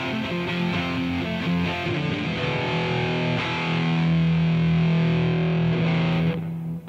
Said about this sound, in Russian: Сейчас вы услышите, как звучит отечественная Симал рок-гитара.